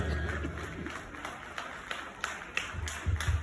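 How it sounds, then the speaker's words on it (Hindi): Audience at a Hindu Sammelan gathering applauding together, a dense, steady wash of many hands clapping at moderate loudness with a few louder thumps near the end. "जोरदार तालियां"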